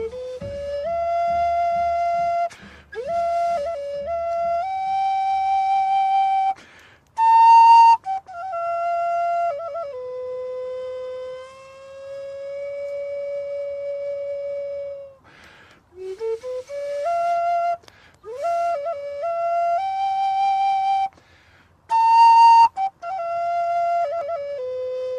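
Native American whistles or flutes sounding a series of clear, sustained tonal notes, some held long and others sliding up and down in pitch, with brief pauses between phrases; the playing is solo and close, with no voices.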